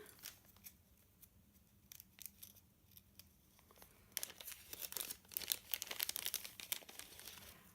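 Scissors snipping through an ombre craft ribbon at a card-making table, a series of quiet close snips and crinkles that grow busier in the second half.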